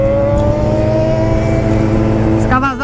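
Kawasaki Z-750 motorcycle engine holding a loud, steady high idle with strong harmonic drone, then a brief rising rev near the end, close by.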